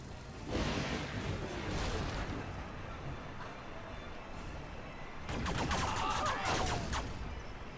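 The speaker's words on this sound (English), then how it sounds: "See those lasers putting in the damage there?" Rapid bursts of sci-fi laser fire in Command & Conquer Generals: Zero Hour crackle in two dense volleys, a sustained barrage early on and a louder one near the end, with steady battle noise between.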